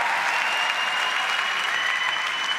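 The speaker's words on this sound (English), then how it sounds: "Could you give them a round of applause?" A theatre audience at the Olivier Awards applauding a show's cast, a dense, even roar of clapping that holds steady for the whole moment with no pauses.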